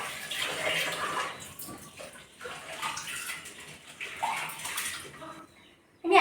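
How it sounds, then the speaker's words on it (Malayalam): Rice is washed in water in a home kitchen while preparing a simple lunch, giving close, continuous sloshing and splashing with small bursts of running water. "അപ്പം നമുക്ക് അരി കഴുകിയിട്ടിടാം കേട്ടോ"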